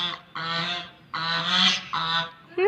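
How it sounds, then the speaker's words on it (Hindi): Loud, honking calls from a group of ducks with long necks, several harsh blasts in quick succession, close and clear with no talk. "बत्तखों की आवाज़ इतनी तेज कैसे होती है"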